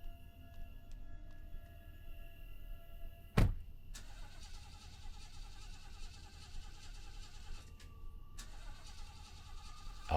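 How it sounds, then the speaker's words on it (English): A car engine in a horror game repeatedly fails to start, with faint grinding cranks and clicks against a low hum, the loudest turnover attempts near the start and end. "Out of nowhere, the engine won't switch on."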